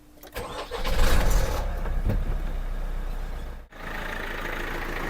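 An Opel Zafira 1.6 engine with a timing-chain fault cranks and catches, then runs on at a steady loud idle with a brief dip near the end, no voices over it.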